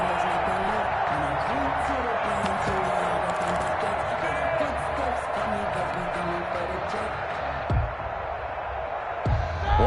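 Stadium crowd noise from a football video game swells in a steady roar beneath an announcer's play-by-play on a big third down, with faint claps and whoops scattered through the dense, continuous din.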